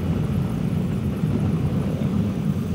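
A car's engine runs steadily during a driving lesson in Sylhet as the accelerator is pressed. The drone is loud, low and continuous, with no clear rise in pitch.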